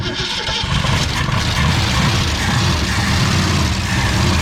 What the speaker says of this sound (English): Every time she goes to fire, the old starter jumps out. So give it some gas.